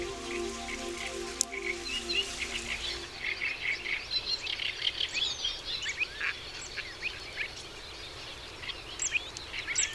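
Birds in the Ebro Delta wetlands, among rice paddies, make many quick high chirps and tweets over a soft, rain-like background hiss. An earlier low hum fades out after the first few seconds.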